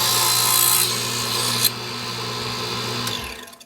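A small saw cuts a piece of wood for a model ship's grating, a continuous close rasping that shifts pitch partway through and trails off at the end, alone without talk.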